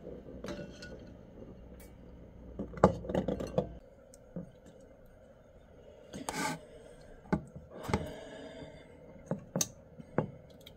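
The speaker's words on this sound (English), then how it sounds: "now I'm just going to peel them with a spoon" A spoon peels ice-water-cooled items at close range, making intermittent scraping rasps and small knocks separated by quiet pauses.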